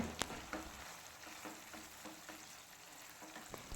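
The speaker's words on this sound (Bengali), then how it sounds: "পনির দেওয়ার পর মশলার সঙ্গে একটু কষিয়ে নেব" Fried paneer cubes are stirred through a spice masala in a pan, giving a quiet, low sizzle with a few soft spoon scrapes and no voices.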